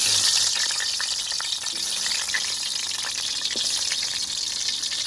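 Sliced onion frying in a pan in a village kitchen in Pampanga, a constant hissing sizzle with faint occasional ticks and scrapes, moderately loud and close, with no talking.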